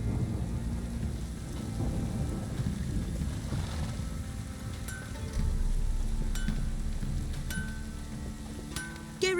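A heavy downpour with rolling thunder in The Witcher 3, a dense, continuous roar of rain under low rumbling that swells midway, with a few faint high chirps and clicks scattered through.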